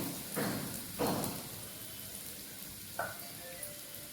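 Carrot, cabbage and onions frying in a small amount of oil in a pan, giving a steady low sizzle with a few louder bursts of stirring near the start and one later, no talking.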